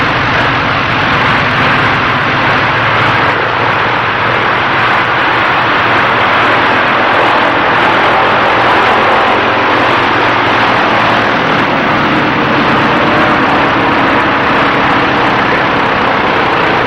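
Fixed-wing aeroplane touching down at a small airstrip beside an old fishing village, its steady engine roar loud and continuous throughout with a broad rushing noise and no voices.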